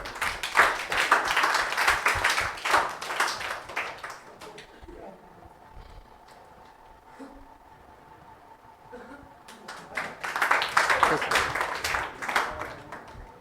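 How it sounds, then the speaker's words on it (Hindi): Audience applause at a 12th-class result celebration at a school in Ajmer, a loud burst of clapping that fades into a quieter lull before a second strong wave rises. "इसके लिए जोरदार तालियां"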